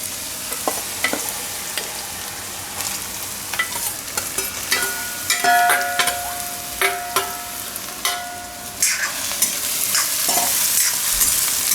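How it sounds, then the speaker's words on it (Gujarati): Ridge gourd is stirred in hot oil with browned garlic in a pan for a Gujarati dal, giving close, steady sizzling broken by repeated scraping and clattering strokes of the spoon. "ગલકાને તેલમાં થોડીક વાર ફેરવી લઈએ."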